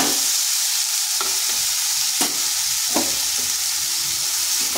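Cut apples fry in hot oil spiced with nigella seeds, a loud, constant hiss of sizzling broken by a few sharp spatula scrapes and taps in the pan.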